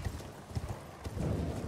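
Horse hooves clip-clopping indoors while riding a mount in Elden Ring, a quick steady rhythm of close, moderately loud footfalls with no talk.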